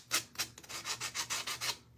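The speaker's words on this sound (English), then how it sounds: "Just buy this thing. This little sander. It's perfect." A small sander rasps across a surface in a steady rhythm of about nine short, even strokes, fairly quiet and close, with no voices.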